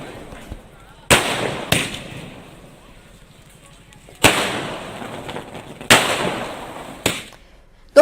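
Fireworks set off by celebrating political supporters, about six sharp outdoor bangs at uneven intervals, each followed by a short crackling tail, with a faint background murmur between the blasts.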